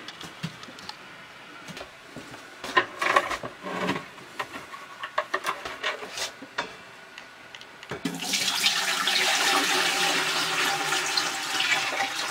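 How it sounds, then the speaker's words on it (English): Water sloshes and pours steadily into a Berkey water filter, becoming a louder continuous rush partway through, close by with occasional knocks and clatters before it. "But I'll go ahead and pour it into the filter"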